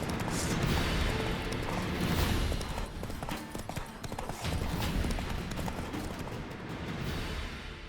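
Geralt's horse Roach gallops in The Witcher 3: Hearts of Stone, with a dense, loud, steady run of hoofbeats close by and continuous clatter throughout.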